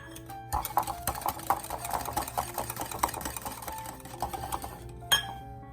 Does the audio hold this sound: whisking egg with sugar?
yes